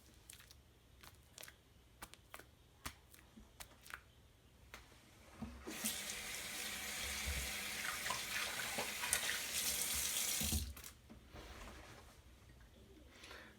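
Water gushes steadily from a tap for several seconds, loud and close, then cuts off, with a few faint knocks and clicks before it starts.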